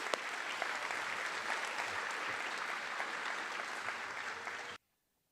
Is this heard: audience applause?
yes